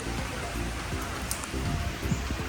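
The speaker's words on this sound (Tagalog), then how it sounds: "sobrang ulan ngayon" Heavy rain pours down during a typhoon, a dense steady hiss of drops with occasional louder patters on nearby surfaces, no voices.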